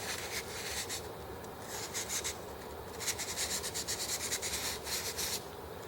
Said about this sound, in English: a little bit of wet and dry sandpaper to